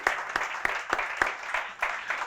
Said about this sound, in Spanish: Merecen un aplauso especial.